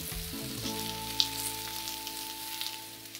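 Vegan food sizzling in a hot frying pan while a second pan is pressed down on top, a clatter of pan contact at the start and then a steady close hiss of frying.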